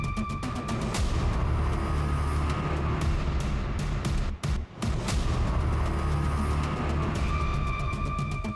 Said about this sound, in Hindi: देख नहीं रहे सर, बम फेंक रहा है